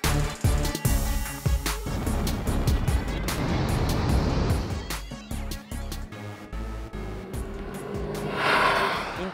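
A Lamborghini Urus SUV with a V8 engine drives past: a loud, rumbling engine note that swells and fades with gear changes and revving, mixed with road and wind noise, with no talking.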